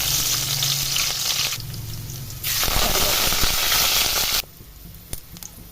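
Green chillies fry in hot oil for a bean curry with a loud, dense sizzle. The sizzle surges and eases in waves, swells to a strong crackling hiss, then falls abruptly to a quieter simmer with a few pops.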